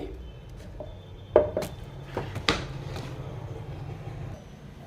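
A knife cuts banana flower into small pieces for chutney, giving several sharp, close chopping knocks on a board spaced irregularly over a low, steady background hum, with no voices.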